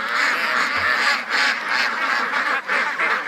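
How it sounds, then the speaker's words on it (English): A crowd of pushy ducks swarming close around a person in a corner, quacking and honking loudly in overlapping bursts that rise and fall continuously, with no talking. "Holy mackerel, these ducks are pushy."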